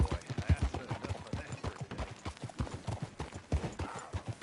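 Steady clip-clop of horse hooves trotting at a brisk, even rhythm in a PS4 video game, close and continuous throughout with no talking.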